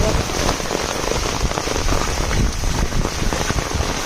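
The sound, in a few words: heavy rain falling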